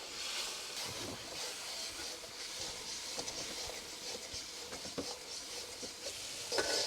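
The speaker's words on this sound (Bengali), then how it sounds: "আমাদের মশলা কষানো মোটামুটি শেষের দিকে" Spice paste with garam masala is stir-fried in a pot aboard a fishermen's boat in the Sundarbans, making a soft, continuous frying hiss broken by scattered spoon scrapes and taps.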